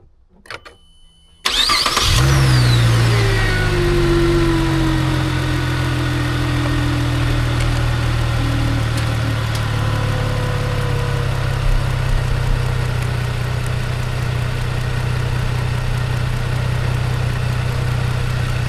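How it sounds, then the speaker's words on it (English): A Chevrolet Malibu or Silverado engine cranks briefly, then catches and settles into a steady, loud idle while an alternator fault is being tested, recorded close up with no speech. "I'm going to go ahead and crank the vehicle over and test it again"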